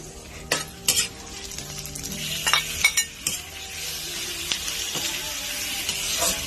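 Chopped tomatoes frying with milkfish (bangus) in a pan for a fermented black bean dish, stirred with a utensil that scrapes and clinks against the metal at irregular moments over a steady close sizzle.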